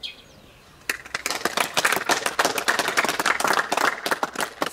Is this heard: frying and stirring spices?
no